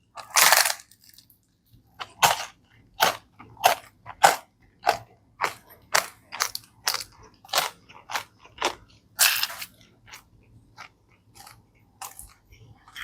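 Repeated crisp bites and crunchy chewing of thick, crouton-like Pizza Hut crust in Thailand, a steady series of close, sharp crunches with brief pauses and no talk.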